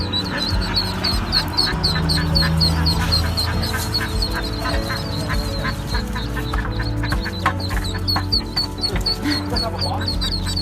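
Ducks quack loudly and steadily, several birds calling at once, close up during a rescue, with people talking over the continuous chorus.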